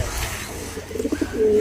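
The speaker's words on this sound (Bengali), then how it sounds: "ওই দেখেন আমার কবুতর" A pet pigeon at a village home gives a short, soft cooing call, close by, a few throaty pulses ending in a drawn-out coo over faint background noise.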